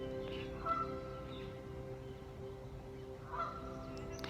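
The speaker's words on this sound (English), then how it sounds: "just wait till the duck has finished its duck party." A duck calls outdoors in two short nasal bursts spaced a few seconds apart, faint and distant over a low steady background hum.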